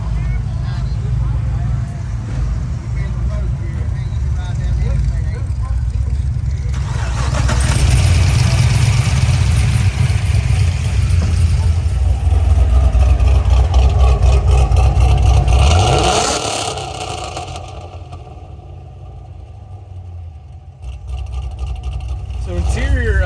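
A 580-horsepower 2006 Pontiac GTO starts up and idles with a deep, steady rumble, then revs hard and holds a loud roar for several seconds before dropping back to idle and revving briefly again.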